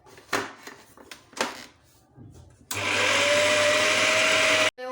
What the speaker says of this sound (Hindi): तमाम चीज़ों को मिक्स दोबारा से ग्राइंड करें चॉपर में।